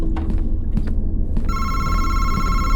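A phone rings in a room with a steady electronic ringtone that starts partway through, loud and continuous over low background rumble, after a few soft knocks and bumps.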